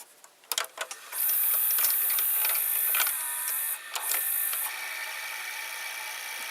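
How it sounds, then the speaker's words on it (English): A Panasonic, Magnasonic or Sanyo VCR whose capstan motor rubs as it turns gives a steady high mechanical whine and scraping hum, preceded by a few sharp clicks of the tape mechanism, heard close with no talk. "you can hear the capstan motor like a rubbing"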